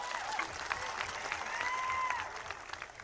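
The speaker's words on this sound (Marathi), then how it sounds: "त्यांच्यासाठी जोरदार टाळ्या वाजवा." A crowd claps steadily at a political rally in Ishwarpur, formerly Islampur, with dense, sustained applause that fades slightly toward the end.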